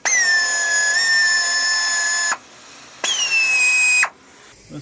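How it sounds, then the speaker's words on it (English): Blunt drill bit squealing against a piece of metal during a V12 Miata swap build: two loud, steady high-pitched screeches, the first about two seconds long, then a shorter second pass after a brief pause, close and alone. "This is a blunt drill bit."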